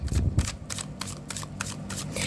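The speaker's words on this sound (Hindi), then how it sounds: "last shuffle" Tarot cards being shuffled in a final shuffle during a reading, a run of soft riffling, slapping bursts close to the mic, with a thumping handling sound near the start.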